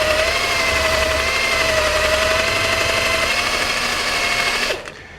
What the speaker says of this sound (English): I just take a wire wheel to it first and then maybe a file if it needs it.